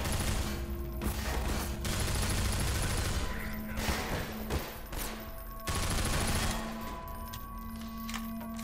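Sustained automatic gunfire from a Half-Life 2 VR firefight, dense overlapping bursts of rapid shots running loud and continuous throughout with only brief dips.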